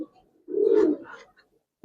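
A Giribaz Silver pigeon coos once, a short close rolling call with a softer trailing murmur, then falls quiet before a brief sound at the end.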